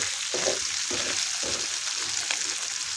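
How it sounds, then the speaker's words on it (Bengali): Potatoes sizzle steadily as they fry in a pan over a raised flame, with several soft scraping turns as the pieces are flipped and stirred so they brown. "উল্টা পাল্টা দিয়ে এটাকে লাল করে ভেজে নেব।"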